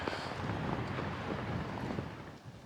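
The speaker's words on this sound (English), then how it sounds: "Wind coming across that valley is blisteringly cold." Cold wind gusting across a valley below a ridge, a steady broadband rush buffeting the microphone close up for the whole stretch, with no voices.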